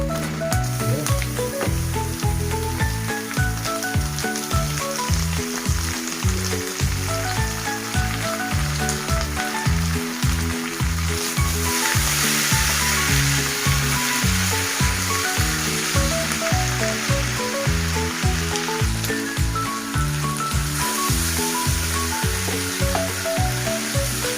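Beef innards sauté with ginger, garlic and onion in a hot pan, a loud continuous frying sizzle throughout, close and unbroken, with no talking.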